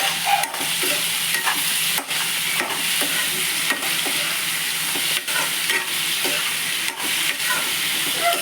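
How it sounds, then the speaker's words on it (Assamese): Chopped tomatoes frying in a pan with salt, a steady close sizzle punctuated by repeated scraping stirs of a spatula at an uneven rhythm. "এনেকৈ বিলাহীখিনি গলি যোৱালৈ এনেকৈ ভাজি ল'ম।"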